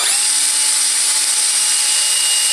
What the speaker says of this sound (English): pre-drill like that into one of the dimples and then sink my nail in there